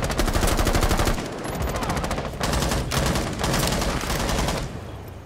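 Sustained automatic gunfire in Rainbow Six Siege on the Oregon map, rapid rattling bursts that are loud and close, broken by brief pauses of a fraction of a second.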